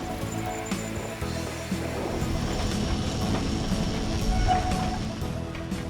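Cable-hauled tram climbing a hill, pulled up by a winding cable: a steady, continuous mechanical rumble with faint rattling and clicking, holding at an even level throughout with no voices.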